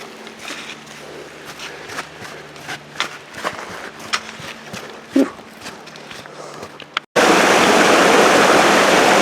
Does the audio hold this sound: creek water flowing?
yes